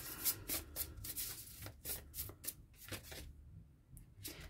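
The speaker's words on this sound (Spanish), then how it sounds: "tengo que barajar" Rapid papery riffling and rubbing of a deck of tarot cards being shuffled, continuous close bursts with brief pauses, no talking.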